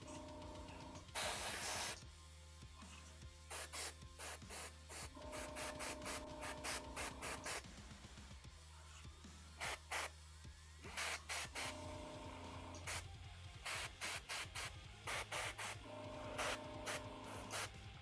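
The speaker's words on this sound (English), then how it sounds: "We're letting the airbrush do a lot of the work for us." An airbrush sprays paint onto a Gigalion miniature from Kingdom Death in short hissing bursts, stopping and starting steadily over a steady background hum, with no talk.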